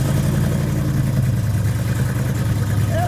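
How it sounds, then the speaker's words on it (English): A Pontiac Trans Am with a modern performance exhaust idles in a steady, loud, low rumble, a close, continuous engine drone with no speech. "And an awesome exhaust."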